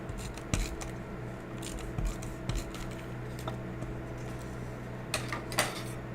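Scissors trimming a piece of card paper for a handmade card: a few sharp, separate snips and crisp clicks with pauses between them, close by over a quiet room hum.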